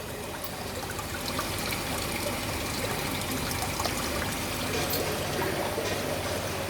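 Water trickles from an opened valve into a settling infiltration filter column, a continuous broadband splashing and rushing flow, fairly loud and steady throughout without any talking.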